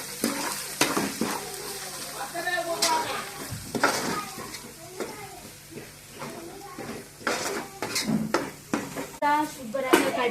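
Chicken curry frying in a pan after turmeric goes in, with sizzling and spoon stirring, scraping and clinks against the pot in irregular bursts, fairly close and moderately loud.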